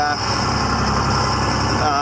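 A noisy car engine idles after a cold start, a steady, close, rough drone that continues unbroken throughout.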